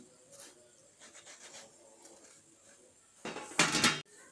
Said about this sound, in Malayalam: ഇതുപോലെ തുണിയെടുത്ത് നമ്മൾ തുടയ്ക്കുക എല്ലാം അതുപോലെ വെള്ളമില്ലാതെ നമ്മൾ തുടച്ചെടുക്കുക